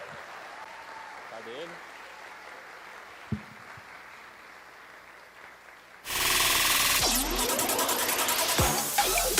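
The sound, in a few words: audience applause welcoming the speaker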